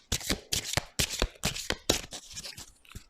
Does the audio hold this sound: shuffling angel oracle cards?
yes